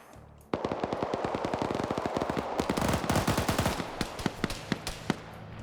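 M84 machine gun fires in a large-scale multiplayer video game battle, starting abruptly as a dense, loud burst of rapid shots that thins into scattered, sharper reports toward the end.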